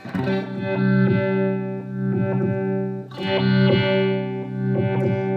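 Chase Bliss Audio Wombtone MKII phaser pedal on a sustained, distorted guitar chord, with depth modulation giving slow sweeping swells that dip and rise twice, loud and alone.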